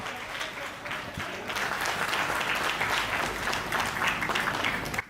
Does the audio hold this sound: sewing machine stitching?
no